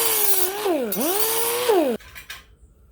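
A power saw cuts through a Magnaflow exhaust pipe for a classic muscle car, its whine dipping and rising in pitch as the blade works, loud and close, then cutting out sharply.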